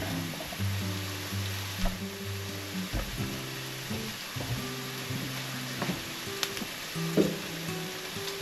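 Green peppers and red onions sizzle in a pan while a spatula scrapes and shifts them now and then, with a steady fry running under intermittent clacks and taps from the pan.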